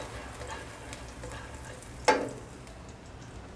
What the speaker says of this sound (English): Fry till fragrant.